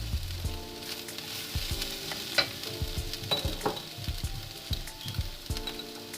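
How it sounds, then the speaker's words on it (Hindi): Vegetables frying in a pan for white sauce pasta, a steady soft sizzle broken by repeated scraping stirs and a few clinks of a spoon against the pan, close and moderately loud with no talking. "टू से 3 मिनट हमने इसको फ्राई करना है।"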